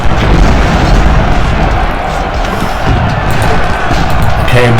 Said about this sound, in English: There is the artillery.